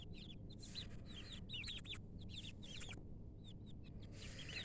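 Chickens in a backyard flock kept with turkeys cluck and chirp in quick repeated bursts over a steady low background hum, close by and fairly clear, with no voices.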